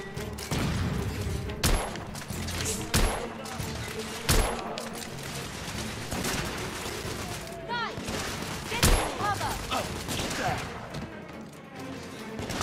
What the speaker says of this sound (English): And then I need to switch to the shotgun for the strong guy.